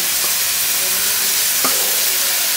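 Ginger, onion, garlic, green chilli and ground cumin frying in a pan, a loud steady sizzle with a couple of brief stirring scrapes, heard alone without talk.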